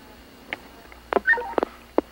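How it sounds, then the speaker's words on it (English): Telephone keypad tones as a caller dials to ring a line back, a short irregular run of about five distinct beeps, close and clear over faint background hiss. "I immediately tried to call back on the line."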